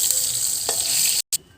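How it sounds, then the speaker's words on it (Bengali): Ripe tomato frying in hot oil in a kadai, a steady bright sizzle running throughout with a soft stir sound partway, then a brief cut to silence before the sizzle returns more quietly. "ওই তেলে এখন টমেটোটা ভাজবো"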